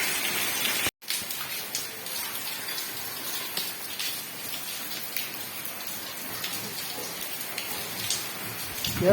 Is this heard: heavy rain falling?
yes